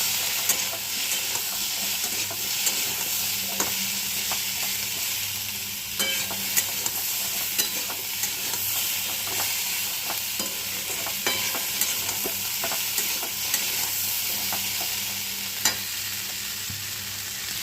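Curry with ginger and chopped tomato fries in a pan, producing a constant bright sizzle. A utensil scrapes and stirs through it in scattered clinks and knocks over a long stretch.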